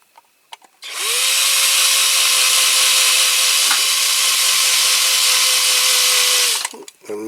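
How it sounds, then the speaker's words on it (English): A cordless drill with a blunt small bit runs steadily for about six seconds, drilling into a Dinky Toys AEC Transporter die-cast model, loud and close with a constant whine between short starts and stops. "And my drill battery is going flat."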